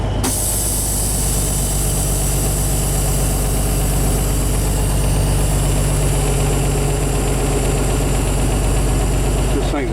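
A 1981 International cab-over truck engine idling after its first start in years, a loud, steady, heavy diesel rumble with rattling vibration, constant throughout at close range.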